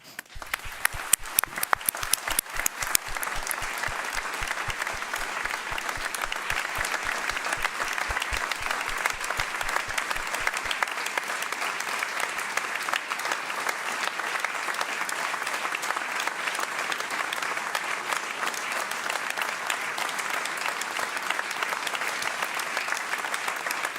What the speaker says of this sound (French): un seul applaudissement global